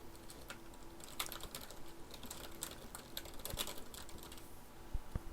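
Computer keyboard typing a title in a presentation program, with a rapid, irregular run of soft, close key clicks continuing steadily under a faint background hum, no talking.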